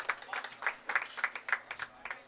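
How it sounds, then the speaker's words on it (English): A crowd at East Lincoln Lanes bowling alley claps in a steady rhythm of sharp, moderately close hand claps, repeated about a dozen times over a quiet background. "the crowd just realizes we're out doing the live stream and they clap for us"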